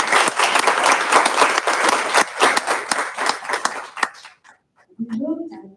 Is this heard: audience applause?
yes